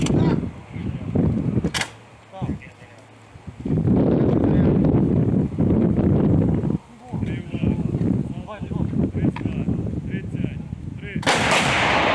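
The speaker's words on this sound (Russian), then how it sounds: "Украинцы показали вот такое видео с работы американской гаубицы М777." An American M777 howitzer fires in the field, giving sharp, loud booming reports spaced across the stretch. Wind rumble and outdoor noise fill the gaps between shots.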